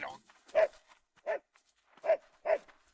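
A dog in an anime episode barks four times in short, sharp bursts spaced across a few seconds, clear against a quiet background.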